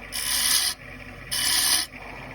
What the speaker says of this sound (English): Okay, I'm going to use a spindle gouge